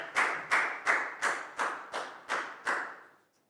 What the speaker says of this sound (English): a big round of applause for Prel